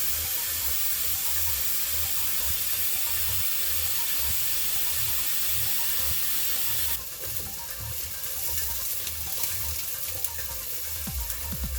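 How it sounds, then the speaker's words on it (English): Tap water runs steadily into a pot in a home kitchen while pasta is being prepared, a continuous close rushing hiss that grows brighter partway through, with low rhythmic thumps underneath and no talking. "I'm going to go ahead and fill a pot up with water."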